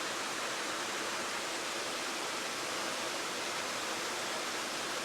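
A waterfall in a rainy landscape, heard as a steady, even hiss of rushing water with no breaks or other sounds.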